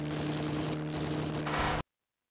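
Machine gun fire in the WWI flight game ACM 1918, a steady fast rattle of shots over engine drone, loud and close, cutting off abruptly into silence.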